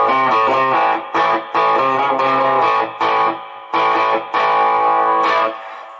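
Heavily overdriven Gretsch G5230LH Electromatic Jet electric guitar plays sustained chords in bursts with short gaps, loud and gritty throughout.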